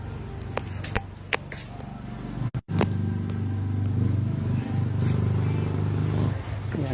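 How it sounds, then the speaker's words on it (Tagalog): Homemade four-wheeled motorbike tuk-tuk with a balancer, its engine running with a steady close rumble that builds after a brief dropout, with some handling clatter early on. "Yan ang tok-tok Cambodia yung isa. DIY din, motor na may 4 na gulong, may balancer."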